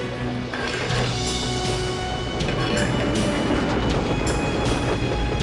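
Steady rumble of a passenger train running along the track in The Last Express, a dense continuous rolling roar with faint squeals and clatter riding on top throughout.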